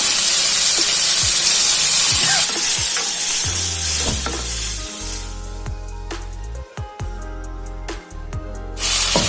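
Tomatoes fry loudly in hot oil while being stirred with salt and turmeric for a drumstick leaf saaru. A continuous sizzle and hiss runs throughout, with scraping stirs, easing briefly before rising again at the end.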